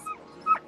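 Trained competition dogs make short, soft whimpering yips, two brief cries a fraction of a second apart. They sound moderately close over a quiet background.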